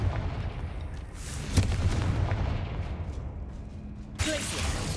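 A Confringo explosion spell cast in the video game Hogwarts Legacy gives a booming burst around the middle, over a dense rumbling game soundscape with another swell of sound near the end.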